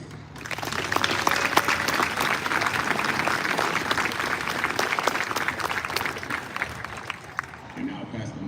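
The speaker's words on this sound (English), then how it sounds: "Please join me in a round of applause for the incredible staff and faculty and staff that we have here." A graduation audience at the Army and Navy Academy applauds its staff and faculty with sustained, loud clapping from a large crowd that fades slightly at the end, with some voices mixed in.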